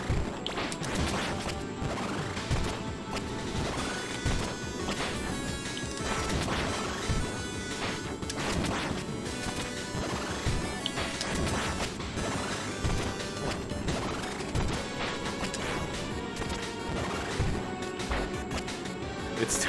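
Objects are smashed in Cyber Shadow, a video game, with a steady stream of loud crashes and whacks running for the whole stretch, layered over game music with no pauses.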